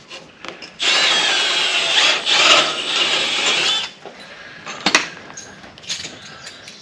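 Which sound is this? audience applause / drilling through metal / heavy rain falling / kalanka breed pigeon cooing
drilling through metal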